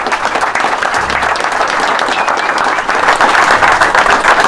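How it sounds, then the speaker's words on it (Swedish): Participants and onlookers at a burger-making contest final applaud loudly and steadily, a close, dense crowd clapping that swells slightly toward the end. "Stora applåd för er."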